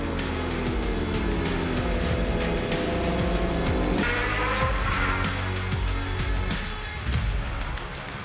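Race cars at the CRC Motorsport Cemetery Circuit charge into turn 1, a loud dense pack of engines revving and shifting gears, with tires squealing as the field brakes and rounds the corner.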